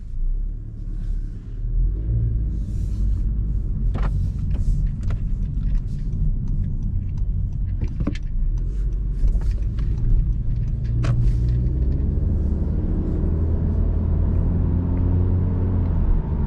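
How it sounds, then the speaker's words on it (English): Steady low-frequency road rumble and engine drone fill a 2024 Honda Civic Hatchback EX-L interior while driving, with occasional faint clicks and ticks over the constant cabin noise; no talking. "we're gonna go ahead and drive so that you guys can hear what it sounds like inside of this cabin"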